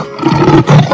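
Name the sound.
lion roaring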